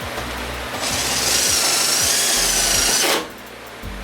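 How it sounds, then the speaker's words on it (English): A power drill driving a screw whirs steadily at high speed for a couple of seconds, close by, during body work on a Dodge Charger, then winds down, over a low rhythmic background rumble. "You don't wanna go too fast with the drill bit"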